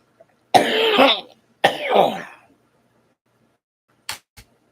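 Two harsh, close coughs from a person with COPD and lung blood clots in quick succession, then a pause and a couple of short, faint throat sounds at the end.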